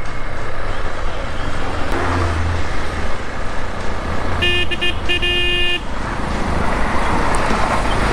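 Busy city road traffic heard from a motorcycle during a motovlog ride, with a steady loud wash of engine and road noise, a brief horn toot near the middle and several honks clustered shortly after, with no talk.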